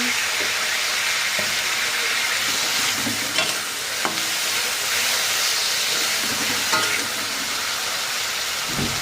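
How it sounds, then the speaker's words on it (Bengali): Beetroot fries in a pan with a continuous hissing sizzle, broken by intermittent utensil scrapes and taps as it is stirred, steady and close with no talking. "তারপরে হচ্ছে বিট আলু ভাজা করেছি"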